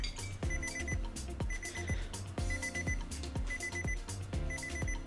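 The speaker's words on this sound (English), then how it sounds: "I'm expecting somebody else to turn the timer off." A timer alarm going off during an art drawing session: a bright electronic beeping pattern repeats in quick bursts roughly once a second, loud and steady, with no other sound over it.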